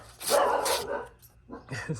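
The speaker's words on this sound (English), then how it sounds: "there's my dog barking in the back" A dog barks in the background of a room, two loud close barks followed by a couple of softer yips, with a little talking mixed in.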